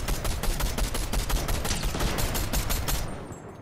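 Rapid automatic gunfire from a Fortnite match, a dense, loud stream of shots rattling continuously for about three seconds before cutting off into quiet.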